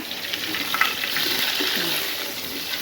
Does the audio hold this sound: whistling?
no